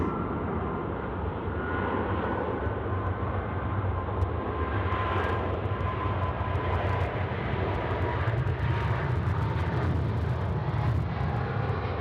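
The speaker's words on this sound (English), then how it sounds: "Etihad rolling it out, runway 16 right" An Etihad airliner rolls for takeoff on runway 16 right at Sydney Airport at night, a loud, steady jet engine roar that holds for the whole stretch, heard from nearby, with no talk.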